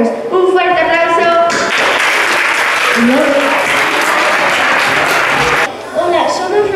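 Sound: applause from audience at school presentation

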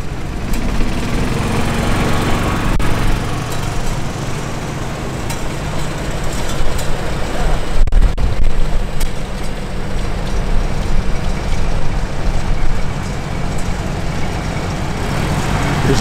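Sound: International Harvester model 100 tractor engine running

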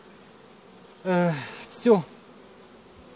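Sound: honey bees buzzing at the hive

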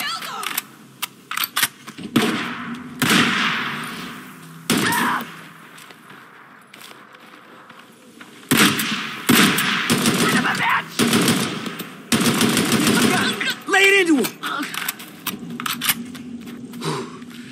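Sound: gunfire in the video game Days Gone

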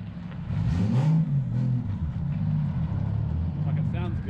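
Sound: Nissan Skyline R32 coupe engine revving

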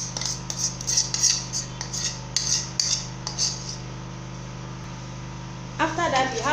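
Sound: mixing African salad (ugba) mixture

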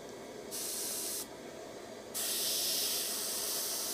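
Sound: airbrush spraying paint

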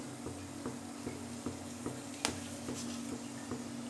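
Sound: whole garam masala spices frying in hot oil

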